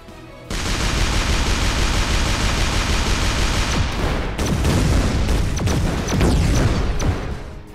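Dense bursts of game gunfire and booms from tanks shooting in ShellShock Live, a continuous loud barrage that thins into scattered shots and sharp cracks in the final seconds.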